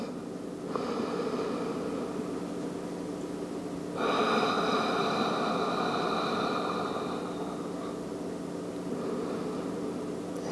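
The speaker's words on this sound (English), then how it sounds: "just take a few slow, deep inhales and exhales out of your nose." Slow, deep breathing in and out through the nose: long, hissing inhales and exhales, two or three drawn-out breaths over a steady background hum.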